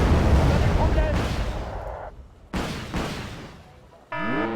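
Missiles launch and hit in the Wargame: Red Dragon strategy game: loud blasts with sharp onsets that decay over a few seconds, then a rising whine at the end.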